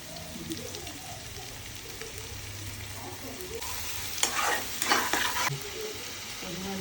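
Onions and spices sizzle in a hot pan for a fish-head muri ghonto while a utensil stirs and scrapes, the frying growing louder and crackling in bursts midway.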